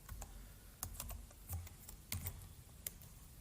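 Quick bursts of keystrokes on a computer keyboard as a short file name is entered on a Debian server, clicking in a few irregular clusters, close and quiet, with no talk.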